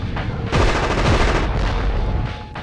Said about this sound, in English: loving this minigun upgrade. It just sounds so good.